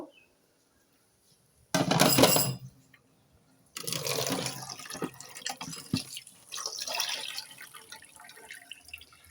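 Kitchen items are washed under a running tap: two bursts of gushing water, a short one then a longer stretch with splashing and clatter, close and fairly loud.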